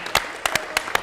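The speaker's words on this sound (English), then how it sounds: "Give her a round of applause." Audience applause at an antiques talk and tea party, sparse separate claps in quick succession over a short moment.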